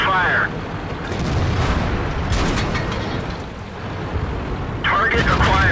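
Heavy tank cannon blasts in the World of Tanks game, booming low explosions with long rumbling decay filling the clip, and brief in-game voice callouts at the start and end.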